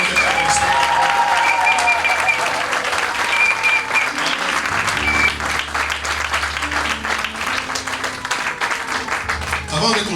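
A church congregation bursts into sustained applause in acclaim of the Lord, dense clapping from a large crowd filling the hall, with some voices audible beneath it.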